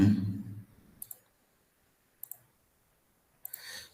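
Sharp mouse clicks come in quick pairs, three sets spread over a few seconds in an otherwise quiet room, after a brief low murmur at the start.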